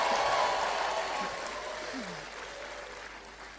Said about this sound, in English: All the queens clap for the big kings around them.